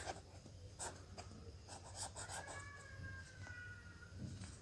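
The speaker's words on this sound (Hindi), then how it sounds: "आंसर अब हम लिखेंगे" Pen writing an answer by hand on paper in a classroom-style lesson, a soft scratchy scribble in short strokes, close and quiet, with a faint bird chirping in the background.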